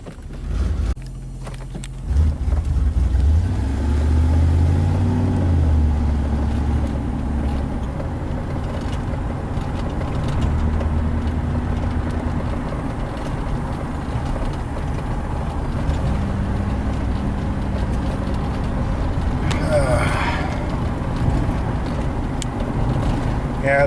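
A 1992 Pontiac Firebird with a 305 V8 that seems starved for fuel runs close by, rising into deep revs early on and then holding a rough, rumbling drone, with someone talking over it.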